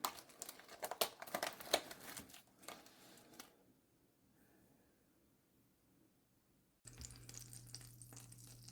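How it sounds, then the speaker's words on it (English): Butter melts in a hot pan before mushrooms go in for stuffed chicken, giving a soft crackling sizzle that is busy at first, then drops almost to silence before a louder steady hiss returns. "The butter's now melting down."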